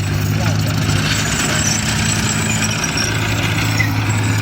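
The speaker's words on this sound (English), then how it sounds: "This is the British Centurion tank" A British Centurion tank driving nearby, its heavy engine producing a steady, loud low rumble with a constant broadband mechanical roar throughout.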